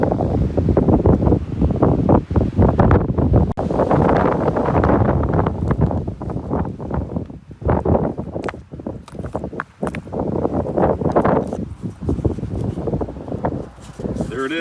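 Strong wind buffets the microphone outdoors among rocks in the border zone between Bosnia and Croatia, a loud, continuous rumbling roar with sharp gusts and no clear pauses.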